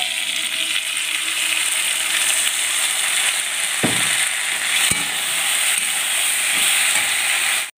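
Pointed gourd with a ground poppy seed and green chili paste cooks in a pan, giving a continuous close sizzle and bubbling hiss with a couple of sharp utensil knocks.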